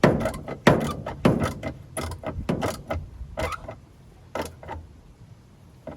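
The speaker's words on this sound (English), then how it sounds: "Then after setting, we need to tighten the bolt." A bolt is tightened on a washing machine motor mount during belt adjustment, giving a run of sharp metallic ratchet clicks and clunks, loud at first and then sparser and fainter, heard close up with no talking.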